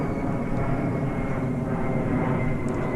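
An airplane flies overhead, a loud, continuous engine roar and rumble that stays steady throughout without fading.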